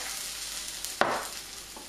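Garlic hits a hot pan for a satay chicken stir fry with a sudden sharp sizzle burst that fades into a softer steady fry over low-medium heat, close and alone.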